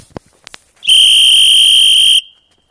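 A loud, steady high-pitched electronic beep like a whistle sounds for about a second and a half without a break, after a few soft knocks. No one talks over it.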